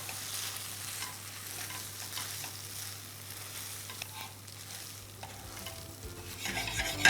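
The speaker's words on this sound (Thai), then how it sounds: "เขาส่วนประกอบทุกอย่างให้เข้ากันดีครับ" Pasta and shrimp get tossed together in a frying pan, with a soft continuous sizzle under repeated scraping and stirring strokes, quiet and close, rising a little louder at the end.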